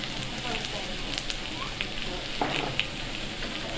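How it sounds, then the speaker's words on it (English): Okonomiyaki ingredients stir-fried on a restaurant griddle, with salt and pepper added: a steady hiss of sizzling oil with scattered scraping and tapping clicks from the spatula. "and stir fry for a while."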